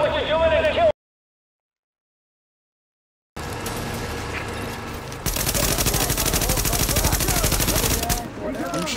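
Rapid automatic gunfire in Tom Clancy's The Division builds into a loud, sustained volley after a brief silence, with voices talking over it.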